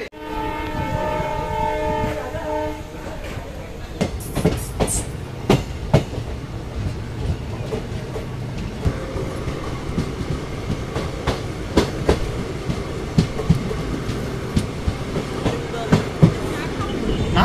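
The Yesvantpur to Vasco Express pulls out of Tiptur station in Karnataka, opening with a long two-tone horn and then a steady run of rhythmic wheel clicks and rail clatter heard close from on board.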